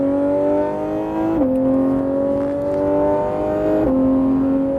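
A Porsche GT3 RS pulls hard on the Le Mans Maison Blanche circuit, its engine note loud and close, climbing through revs with two quick upshifts that briefly drop the pitch before it rises again.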